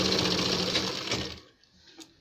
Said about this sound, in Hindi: इस पर लब की सिलाई इस तरीके से ही लगाएंगे